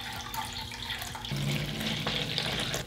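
Water pours into a container of slime crystals, a steady close-up splashing stream that grows fuller and louder partway through and keeps running without pause.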